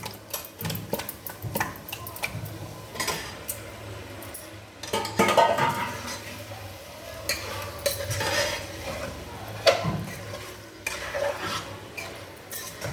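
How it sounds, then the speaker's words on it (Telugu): Fish pieces go into fried onions in a pan: irregular clattering and scraping of a utensil against the pan, with clicks, thuds and a faint sizzle underneath. "ఇది వేగిపోయింది కదా, ఇప్పుడు చేప ముక్కలు ఇందులో వేసేస్తున్నాను."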